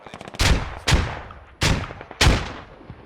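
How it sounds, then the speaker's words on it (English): Grenades burst in the Insurgency video game during a squad assault: four sharp, loud blasts spaced roughly half a second to a second apart, each with a quick crack and decaying rumble. "Grenades going over the wall."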